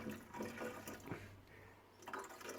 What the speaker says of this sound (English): pouring some water in here one-handed